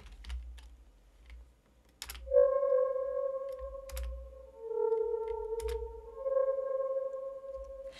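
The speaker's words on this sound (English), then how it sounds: "it still sounds like that ethereal piano sound that I had showed you previously" An FM synthesizer sounds soft, ethereal piano-like tones, two sustained notes, one sliding into the next, with faint key clicks scattered underneath and no voices.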